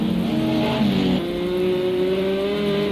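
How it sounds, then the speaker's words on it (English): A Ford race car in Project CARS 2 at Daytona roars close by, its engine drone climbing steadily in pitch as it accelerates hard, with no voices over it. "there you can see the Ford trying to sprint off into the distance"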